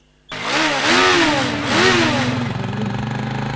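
A motorcycle engine fires up close by and revs twice in rising, wavering surges, then settles into a steady, throbbing idle, loud and with no talk over it.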